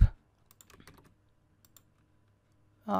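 Typing on a computer keyboard during a Python coding session: a short scattered burst of quiet key clicks in a near-silent room, with brief louder thumps at the start and end.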